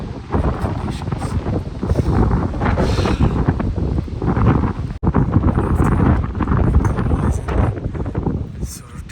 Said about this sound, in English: It's very, very, very windy. It's just the wind is just swirling and swirling, pathetic wind conditions.